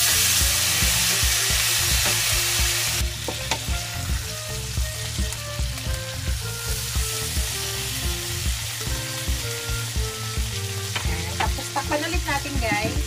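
Salmon frying in a pan after being flipped, a loud continuous sizzle and crackle of hot oil close by, with faint background music underneath.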